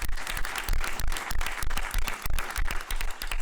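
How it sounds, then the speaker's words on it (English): A room audience claps warmly for a newly introduced board member, dense steady applause with a faint murmur of voices mixed in, holding at a strong level throughout. "So a round of applause for her."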